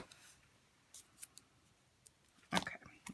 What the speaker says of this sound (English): Use some scissors.